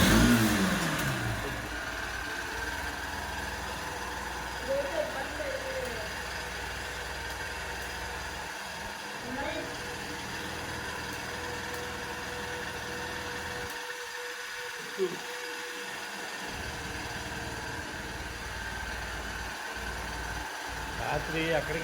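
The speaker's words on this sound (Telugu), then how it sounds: "నేను బండి అయితే ఆన్ చేసి చూపిస్తా." A parked motorbike runs at a steady idle, producing a continuous low engine hum nearby for the whole stretch, with people talking over it.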